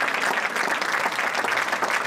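An audience claps loudly and continuously, a dense roar of many hands with no pauses throughout.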